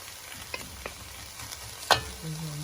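Onions and garlic frying in butter and olive oil get stirred in a pan, with a soft, steady sizzle under a few scraping spoon strokes and one sharper clack near the end.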